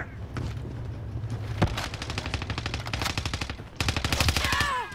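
Rapid automatic gunfire rattles in long bursts during a Call of Duty: Warzone match on Rebirth Island, with a few single heavier shots between, loud and close against a low background hum.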